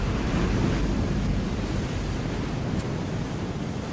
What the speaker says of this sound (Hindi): समुद्री लहरें इतनी ऊपर उठकर हमारी तरफ आ रही हैं।